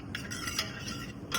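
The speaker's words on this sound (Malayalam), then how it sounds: "അതുവരെ ഒന്ന് ജസ്റ്റ് വെച്ച് തന്നെ ഇളക്കണം" A spoon stirring cashews frying in melted ghee in a pan, heard as soft repeated metallic scrapes and taps over a faint sizzle, quiet and close with no talking.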